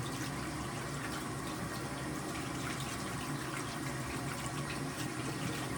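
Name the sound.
washing hands under running tap water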